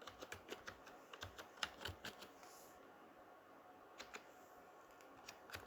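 Typing on a computer keyboard while entering product names into spreadsheet cells: a quick, irregular run of soft, close key clicks with a brief pause midway, no voices.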